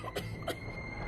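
Two short coughs from children choking on smoke from a cooking stove, close and brief, against a low background hum.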